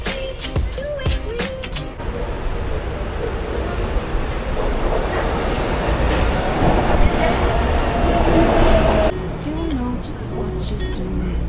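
A São Paulo metro train ride heard from inside the car: a steady loud rolling rumble and rail noise throughout, with sharp clicks at the start and a brief surge near the end.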